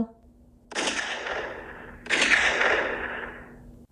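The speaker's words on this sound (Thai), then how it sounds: "เสียงปืนทั้งสองนัด ดังกึกก้องสะท้อนไปทั่วทั้งพงไพร" Two loud shotgun blasts in a forest, about a second and a half apart, each followed by a rolling echo that fades slowly.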